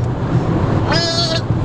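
A person imitates a sheep bleat with one short wavering baa over a loud rumbling vehicle interior on a road trip, brief and close.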